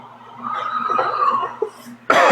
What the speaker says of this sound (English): Guys, I'm sorry I keep coughing.